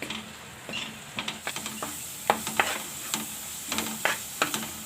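Masala with chopped capsicum and potato being stirred and fried in a pan over low gas for a potato-capsicum shaak, with a steady soft sizzle and repeated scraping strokes of the spoon throughout.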